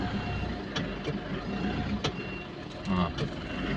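A truck backs into a parking spot in a crowded lot, its engine rumbling under intermittent reversing beeps, with someone speaking over it.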